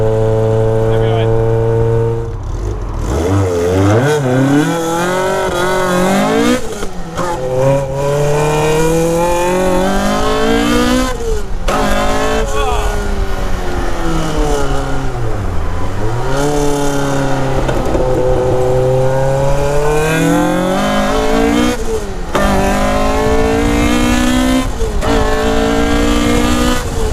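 A Caterham R500 Superlight revs and accelerates hard, its loud exhaust rising through repeated gear changes with sharp drops between shifts, close and continuous for nearly half a minute, with a brief lull near the start.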